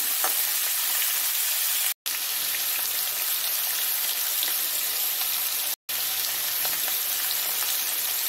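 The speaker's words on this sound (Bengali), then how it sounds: "এঁচড়টা ভালো করে ভেজে নিই।" Raw jackfruit sizzles steadily as it fries in a pan for a Bengali jackfruit curry, a loud continuous hiss and crackle broken by two very brief gaps.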